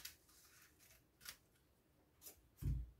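Scissors snip off excess fabric from a dress pattern, three or four short crisp cuts spaced apart, close and quiet, ending with a soft bump as the fabric is set down.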